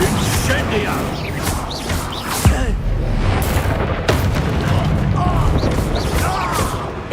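Fire spells cast in Hogwarts Legacy, loud repeated booming bursts with crashing impacts, two especially sharp blasts standing out amid continuous rumbling spell effects and a voice calling out.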